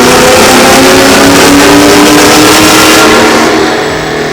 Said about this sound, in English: Now this is what it sounds like after the Corsa exhaust.